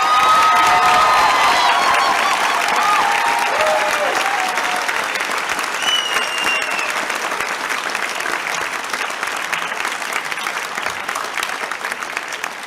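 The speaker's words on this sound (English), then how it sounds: "So, big round of applause." Sustained applause from a large graduation ceremony audience for the Class of 2022, dense and loud at first with a few cheers and whoops rising above, then slowly easing off over about twelve seconds.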